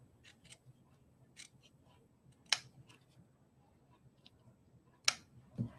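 Designer series paper on a handmade card is trimmed with scissors, giving a few quiet, sharp snips spaced a couple of seconds apart against a near-silent background.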